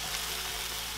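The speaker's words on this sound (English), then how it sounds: "Just add the rice. Give it a stir." Rice and orzo fry in a pan, a steady, fairly loud sizzle with light stirring, heard alone and close for a brief moment.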